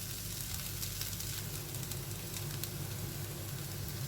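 Potatoes frying in a pan for a simple Tamil-style potato fry, a steady close hiss and crackle of hot oil continuing without pause.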